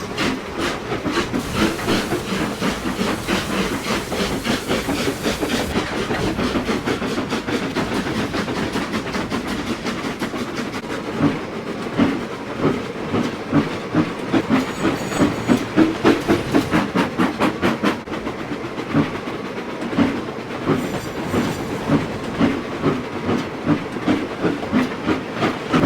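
Steam engines in the Trainz 2 train simulator puff away along the rails, a loud steady rhythmic chuffing with hissing steam and clattering wheels that quickens and strengthens over time.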